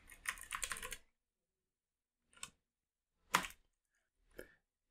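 Keys tapping on a computer keyboard while an SQL statement is entered, first as a quick burst of clatter, then as a few isolated taps separated by quiet gaps.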